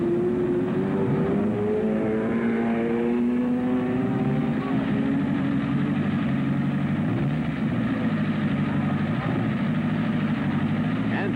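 Race cars at the 1972 Indianapolis 500 roar out of the pits, engines rising in pitch as they accelerate, loud and continuous, with a commentator talking over the noise.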